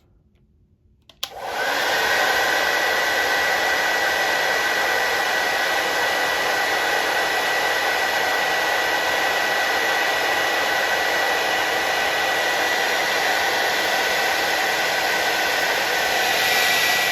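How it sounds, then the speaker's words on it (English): A hair dryer switches on after about a second of near silence and blows steadily and loudly as it heats a heat detector on a Fire-Lite MS-5UD fire alarm system, a constant broadband whoosh with no talk. "I'm going to go ahead and activate this heat detector by just using a hairdryer."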